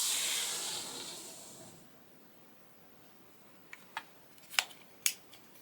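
A rotary cutter slicing quilting fabric for a star quilt block, a soft scraping hiss that fades out, followed by a few short sharp clicks.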